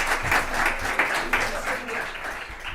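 A conference audience breaks into applause, a steady patter of clapping hands that carries on for a few seconds while a voice speaks over it.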